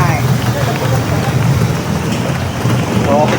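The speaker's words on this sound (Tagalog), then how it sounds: "Ay, nag-ambon na oh." Light drizzle falling outdoors near a Philippine market, a soft continuous patter of drops under a loud, steady wash of ambient noise.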